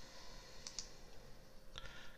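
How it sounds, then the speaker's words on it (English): A few quiet, sharp computer mouse clicks while clicking the Next button in a Windows server setup, heard as two quick clicks and then a single click over faint room hiss. "And now click Next,"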